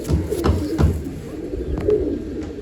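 Pigeons coo nearby in low, throaty, repeated calls, overlapping softly, with a few faint higher chirps in the background.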